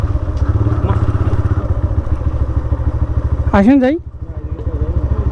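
A motorcycle that got a little wet runs on a haor road, its engine thumping in a steady close rhythm while someone speaks briefly over it.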